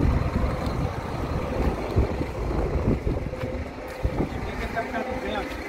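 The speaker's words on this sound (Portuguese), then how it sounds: "tá ventando muito, o vento tá vindo de lá pra cá com muita força" Strong wind buffets a boat on a sightseeing trip at Arraial do Cabo, a dense rumbling roar of gusts and microphone buffeting that runs without pause beneath faint background voices.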